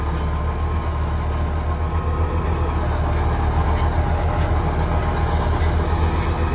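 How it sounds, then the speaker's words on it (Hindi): A John Deere 5310 4wd tractor pulls a super seeder through a field, its engine giving a steady, loud, droning rumble with a dense mechanical clatter that stays constant throughout. "मैं आपको सुपर सीडर के ऊपर ट्रैक्टर की परफॉर्मेंस दिखाना चाहता हूँ"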